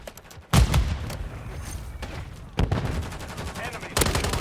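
Gunfire in a Call of Duty MW3 Domination match on the Rust map, with three loud bursts of shooting at about half a second, two and a half and four seconds over a steady rumble of battle noise.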